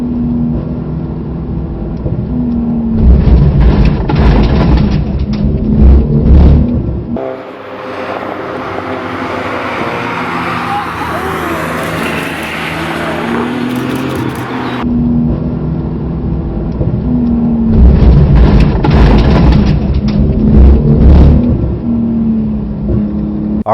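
A Porsche GT2 RS MR at speed on the Nürburgring, its engine roaring loud and continuous, surging and easing through shifts, with a stretch of muffled in-car engine drone between louder outside passes.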